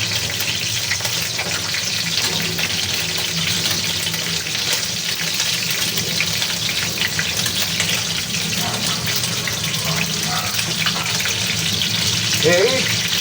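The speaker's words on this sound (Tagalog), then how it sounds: "masarap po kung medyo i-fry natin yung ating fish" Fish and eggplant fry in a pan with a loud, unbroken crackling sizzle that holds steady from start to finish.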